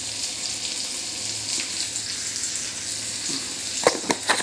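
Onion and cumin fry in a pan for a coconut onion chutney, a loud continuous hiss with a few quick clatters of stirring near the end.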